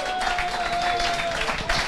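Large esports arena crowd at a Counter-Strike event cheering and applauding in a steady, dense roar with no clear voice standing out.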